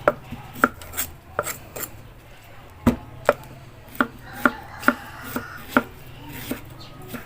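Eggplant being sliced on a cutting board: a dozen or so sharp, crisp knife knocks at an uneven, fairly brisk pace, close and clear with no talk.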